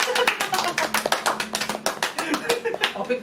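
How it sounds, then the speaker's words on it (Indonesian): Several people clap hands in an uneven, fairly loud burst of separate claps, with some voices mixed in among them. "Tepuk tangan dong"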